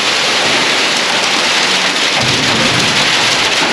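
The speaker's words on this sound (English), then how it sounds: "Listen to the rain from up here." Heavy rain drums steadily and loudly on the roof overhead during a strong storm, heard from a tiny house loft, a dense continuous roar with no voices.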